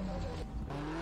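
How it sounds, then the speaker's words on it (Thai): A car's engine idles and rumbles steadily in GTA San Andreas with the CarX mod, giving a brief, fairly loud continuous drone with a short dip partway through. "สตาร์ทเครื่องยนต์ปุ๊บ"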